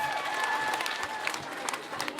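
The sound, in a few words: audience applauding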